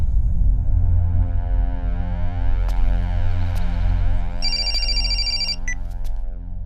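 A telephone rings loudly and close by in repeated electronic bursts, with a sustained tonal warble throughout and no talking.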